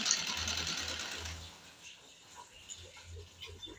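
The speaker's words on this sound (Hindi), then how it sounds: "अब हम इसको ऐसे दूसरे कपड़े के साथ जो लाइनिंग वाला कपड़ा है उसके साथ सिलाई कर देंगे" A sewing machine stitches pleated lehenga fabric to its lining, running in a quick steady burst of rhythmic clatter for about two seconds before stopping, with faint handling noises afterward.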